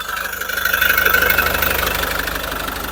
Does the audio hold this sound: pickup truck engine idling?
yes